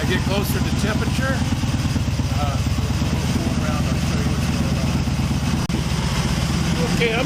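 An Excelsior Henderson Super X motorcycle engine idles warm while being tuned for a stalling problem, with a loud, steady, close-up throbbing pulse that holds throughout as someone talks over it.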